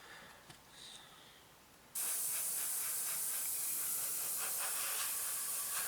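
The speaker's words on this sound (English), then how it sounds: "Just spraying over top so it doesn't build up in certain places." An airbrush sprays paint onto a 1/48 Messerschmitt Bf 109 plastic model, starting abruptly as a loud, steady, close hiss after a quiet moment and continuing without pause.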